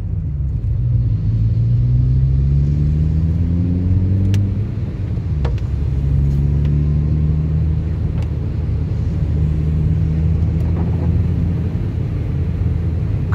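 A car pulls away in first gear on a snow-covered road, its engine a steady low rumble that rises slightly with the revs and carries on throughout, close and fairly loud, with no talking.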